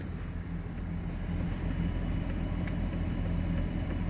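A steady, low mechanical whir of electric radiator cooling fans on a 1999-2006 Chevy/GMC truck runs continuously at moderate volume, with a faint rumbling hum underneath.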